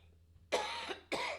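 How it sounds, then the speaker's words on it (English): Two harsh coughs close by, one longer burst followed by a shorter one after a brief pause, in an otherwise quiet room. "I found myself a little cough along the way"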